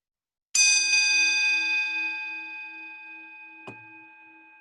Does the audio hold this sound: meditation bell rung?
yes